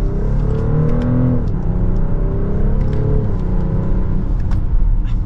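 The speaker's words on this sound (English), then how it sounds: "Hopefully you could hear how smooth those shifts were and how quick they are too." A 2024 BMW X5 xDrive40i SUV accelerates hard from second gear, its engine note climbing steadily and then dipping at a quick, smooth upshift before rising again, loud and close throughout with no talking.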